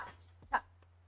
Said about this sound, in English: Apologies for the noise in the background. I think my dog's getting the stuff.